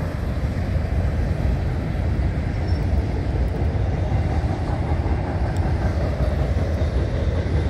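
A northbound manifest freight train rolls past continuously, a loud, steady rumble and wheel clatter from nearby freight cars with no voices.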